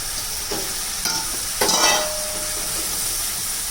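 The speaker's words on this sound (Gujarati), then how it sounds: "હવે તેમાં મેં અડધી વાડકી મગની દાળ પલાળેલી" Soaked moong dal goes into a hot pan of spiced seasoning and sizzles up in a bright, hissing burst with a few spoon-and-pan clinks, then keeps frying steadily close by.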